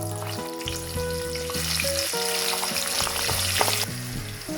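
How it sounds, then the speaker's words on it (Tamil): Chickpeas deep-frying in hot oil for a spicy Sri Lankan mixture snack, giving a steady close bubbling sizzle, with a few clinks of stirring. "அடுத்ததா கொண்டக்கடலையை போட்டு பொரிக்கிறேன்."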